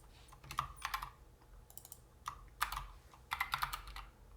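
Typing on a computer keyboard, close up and quiet, with bursts of quick key clicks separated by short pauses.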